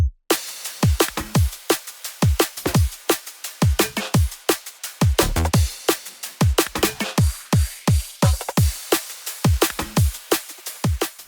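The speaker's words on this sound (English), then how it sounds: "Now the drop, for which you guys are waiting for." Drum and bass drop drums in a melodic track, fast punchy kicks and sharp snares hitting in a driving, syncopated rhythm, loud and upfront with nothing else over them.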